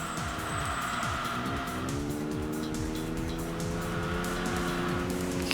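A racing car corners on a track in the video game Enthusia, its engine revving continuously and loudly, with pitch dipping and climbing through repeated gear shifts and no speech.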